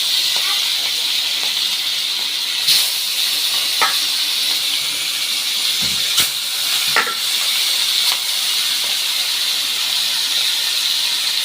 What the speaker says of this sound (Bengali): মাছগুলো আমি একে একে দিয়ে দিচ্ছি তেলের মধ্যে